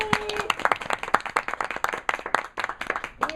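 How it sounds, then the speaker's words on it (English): An audience at a Transitions Radio live show at Borders in North Wales, Pennsylvania, claps in a brisk, dense round of applause, close and steady with a brief whistle early on. "Let's get a round of applause."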